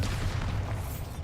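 Bombarda blasting spell from the Hogwarts Legacy game, a deep rumbling boom that sustains and rolls steadily for over a second, moderately loud and without talk.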